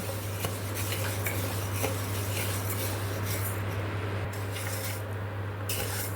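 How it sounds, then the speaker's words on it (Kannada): Spices and lentils for homemade sambar powder are dry-fried in a pan, with close, continuous scraping and stirring of a utensil against the metal over a steady low hum, and no speech. "ಇದನ್ನು ಫ್ರೈ ಮಾಡೋಣ ಎಲ್ಲ ಒಂದು ಐದೈದು ನಿಮಿಷ ಆಗುತ್ತೆ ಫ್ರೈ ಮಾಡೋಕ್ಕೆ"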